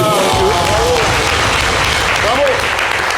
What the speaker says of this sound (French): On peut s'applaudir très très fort